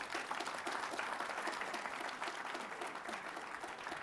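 Sustained applause from a lecture audience fills the hall, dense and steady throughout with no break and no one speaking over it.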